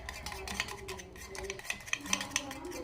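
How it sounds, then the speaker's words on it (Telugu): Cracked eggs whisked briskly in a bowl, a steady close scraping and clinking with rhythmic strokes, a few sharper taps near the end. "ఎగ్ అయితే పగలగొట్టేసుకొని బాగా మిక్స్ చేసుకోవాలి"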